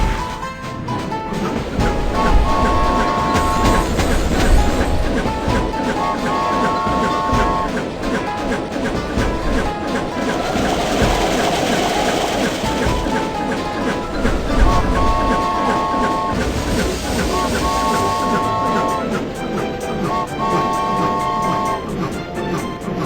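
A cartoon train runs on its track in a BabyBus children's game, a steady rolling rumble under bright game music and chimes, with no talk.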